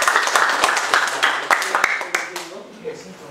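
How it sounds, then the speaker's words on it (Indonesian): Scattered claps from a university classroom honouring a student group after its chemistry presentation on molecular shapes, sharp separate hand claps that thin out over a few seconds, with voices talking over them. "Tepuk tangan untuk kelompok"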